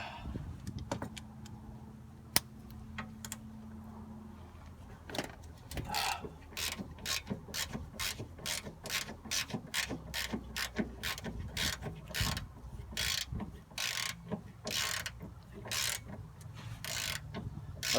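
Ratchet wrench with a 14 mm socket removing bolts under a lifted Nissan 240SX during tension rod replacement, giving rapid repeated clicking bursts in steady runs, close and fairly loud.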